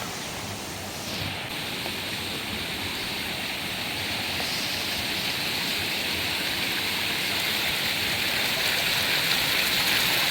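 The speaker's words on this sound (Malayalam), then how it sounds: "ഇത് മലയിൽ നിന്ന് വരുന്ന വെള്ളമാണ്." Rainwater running down from a hill and flowing through a yard, a steady rushing wash of water that holds close and even for the whole stretch, with no voices.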